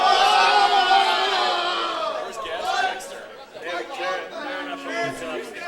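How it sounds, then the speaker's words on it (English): A video game crowd in Tecmo football oohs with a swelling, sustained group murmur that fades and then returns in shorter excited waves of cheering and chatter. "That's what the crowd's oohing and eyeing about."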